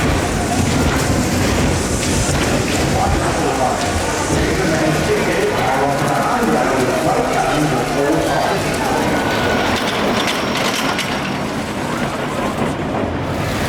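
Big Dipper wooden roller coaster at Blackpool Pleasure Beach riding from the back row, with a continuous loud rattling roar of wheels on track and wind, riders' voices mixed in throughout.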